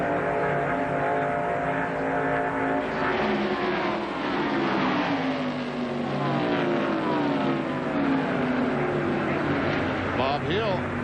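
ARCA stock cars racing side by side at Talladega, a sustained loud engine roar with rising and falling pitch sweeps as cars pass, under a commentator's voice.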